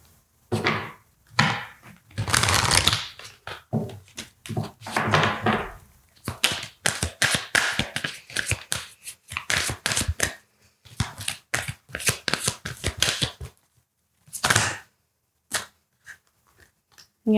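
Oracle cards shuffled by hand in repeated rustling bursts and flicks, close and fairly loud, separated by short pauses and ending in a few sharp taps as the deck is squared.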